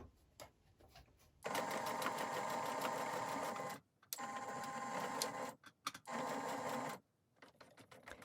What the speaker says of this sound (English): stitch back and forth, just like you did the first time